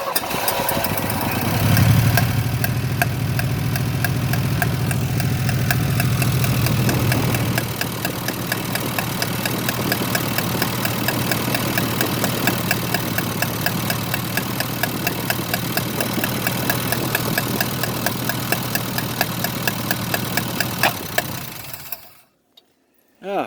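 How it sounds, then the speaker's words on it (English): A hot rod engine cranks and catches, then settles into a steady, rhythmic idle with a regular knocking pulse, loud and close, before cutting off abruptly near the end. "I'm going to see if she'll crank up with just the fuel she got in her."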